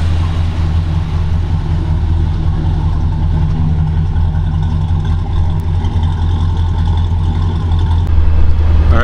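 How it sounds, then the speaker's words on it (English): A 1966 Pontiac Bonneville convertible's 421 cubic-inch four-barrel V8 idles loud and close, a deep continuous rumble with a slight rise in revs near the end. "Let's hear it run."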